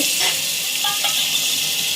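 Steady, loud sizzling and crackling of butter melting in a hot pan to start a mushroom biryani, continuous with no speech.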